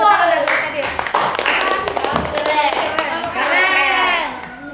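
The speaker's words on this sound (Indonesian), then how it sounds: "Kasih dulu tepuk tangan Abdul Qadir." A school class claps hands for a top-scoring pupil, a quick burst of close, scattered clapping mixed with children's voices and a teacher speaking.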